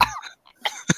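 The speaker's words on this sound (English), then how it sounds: "My cough hasn't gone away" A person gives a short burst of coughing, a couple of close, sharp coughs separated by a brief pause, with a throat-clearing quality.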